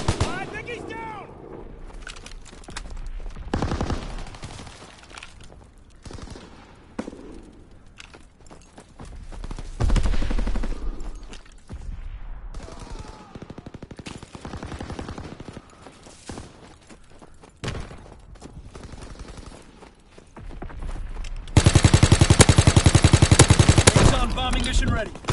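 Gunfire in a PS4 war video game, irregular bursts of shots and explosions separated by quieter gaps, ending in a loud continuous barrage, with game voices calling out over the combat.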